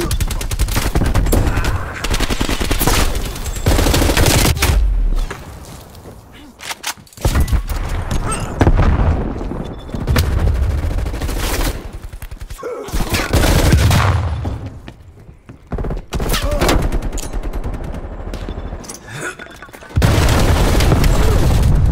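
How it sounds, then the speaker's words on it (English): Call of Duty Cold War firefight: loud bursts of gunfire and a frag grenade explosion crash in repeated heavy waves, with short lulls between the barrages. "Throwing frag."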